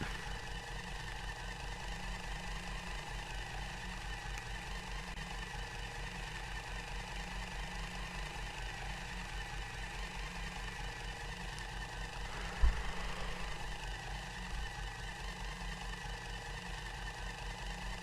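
A Rover driving in the video game Astroneer, a low, steady engine hum with a constant droning rumble and a single thump partway through, quiet throughout.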